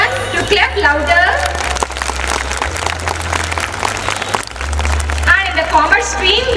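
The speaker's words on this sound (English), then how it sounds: "I request everyone to clap louder." Audience applause at a school annual prize ceremony as a student walks up to the stage, a dense, steady wash of clapping that swells and dips over several seconds, with a voice talking over it at times.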